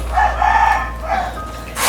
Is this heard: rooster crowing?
yes